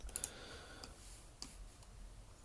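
Computer mouse clicks while inking a drawing in Inkscape: a few quiet, sharp ticks, a quick pair at the start and another single click later, over faint room hiss.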